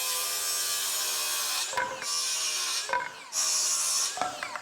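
Hand saw cutting through wooden framing studs for an off-grid home's interior, three long bursts of steady rasping strokes separated by short pauses, close and clear with no talking.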